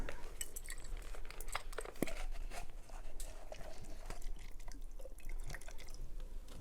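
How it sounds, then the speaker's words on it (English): Water drips and trickles through a cotton wool filter, quiet irregular drips and small splashes at close range with no talking. "Okay, so the water's already coming through quite clear."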